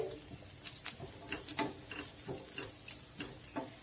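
Grated coconut roasting dry in a pan for rava laddu, heard as soft scraping and stirring strokes with light crackle, close and fairly quiet, repeating irregularly with no talk.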